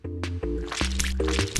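Cartoon scrubbing of a cup at a kitchen sink in a children's cleaning game: soft, wet squishing strokes repeat in quick bursts over a steady musical background.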